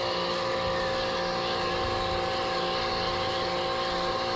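A gas pressure washer runs steadily at full pressure through an MJJC Pro foam cannon fitted with a 1.25 orifice. Its engine drone is loud and continuous, without pauses or speech.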